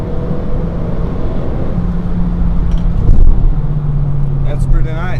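A Renault Clio, a Clio RS 220 Trophy or Clio 172 Ph1, accelerates hard on a wet road as its engine note climbs and rumbles loudly, heard from inside the car with a voice speaking over it.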